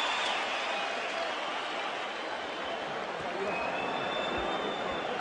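Steady broad applause and crowd noise in a boxing arena after Floyd Mayweather fought Oscar De La Hoya, a dense sustained roar at even level, with commentary over it.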